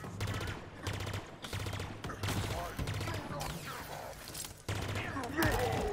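Rapid bursts of automatic gunfire from a weapon in the Halo Infinite campaign, repeated volleys close and loud with brief gaps between them, and a player's voice occasionally heard under the shooting.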